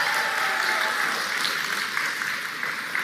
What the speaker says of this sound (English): give it an applause for him